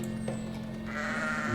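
A sheep in a medieval video game village gives a drawn-out bleat, rising and fairly close, over a constant droning background hum.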